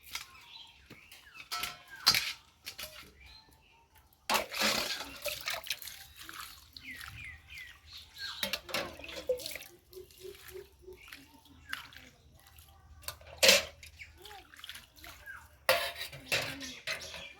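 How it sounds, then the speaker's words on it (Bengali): Water splashes over cut jackfruit pieces in a metal bowl, with clattering of pieces and vessel, dripping and swishing in irregular bursts, close by. "এবার জল দিয়ে ধুয়ে নেবো, তাহলে এই কষগুলো পুরো বেরিয়ে যাবে"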